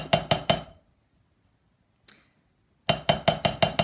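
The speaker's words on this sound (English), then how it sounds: "I shouldn't talk over my hammering." Steel hammer striking jewelry wire on a steel block, a quick burst of three sharp metallic clinks, a pause with one faint tap, then a steady run of six evenly spaced ringing strikes, close and loud.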